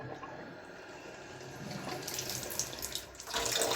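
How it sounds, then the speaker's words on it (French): Water from a Kangen water machine pours in a steady, close rushing stream that swells louder toward the end, with no voices. "Et là, l'eau arrive."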